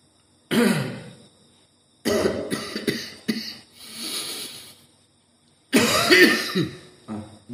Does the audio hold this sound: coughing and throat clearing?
yes